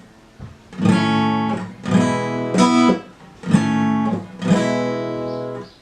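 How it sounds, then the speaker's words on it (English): An acoustic guitar strummed in a steady repeating pattern, bright chords ringing out in four clear bursts with short gaps between them. "for this strumming pattern, it should sound something like this"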